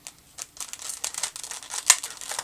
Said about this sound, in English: I don't know how to open this. So I'm just going to use my scissors.